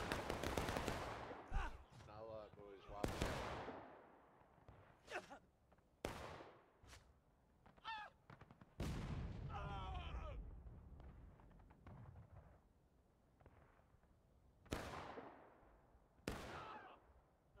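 Musket volleys crack out in a War of Rights Civil War battle on the Railroad Cut map, several loud, broadband shots spaced irregularly across the stretch, with someone talking between and over them.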